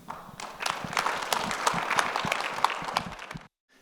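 A room full of people clapping in appreciation at a conference closing, a dense, steady burst of applause that holds for a few seconds before cutting off abruptly.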